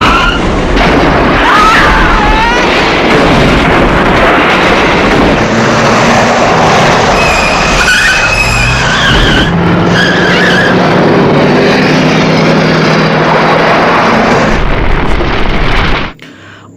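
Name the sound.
enemy car exploding, flying and burning in a movie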